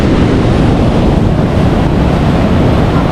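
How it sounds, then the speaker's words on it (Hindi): Ocean surf roars at Hawke's Bay beach in rainy, rough weather, a loud continuous wash of breaking waves with heavy wind buffeting the microphone and no voices. "पानी का जो एक शोर है,"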